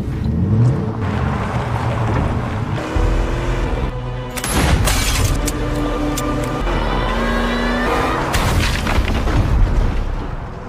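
A car rams into a sheriff in a film scene: a roaring engine and heavy crashing booms and impacts over a dense, loud soundtrack, with no talking.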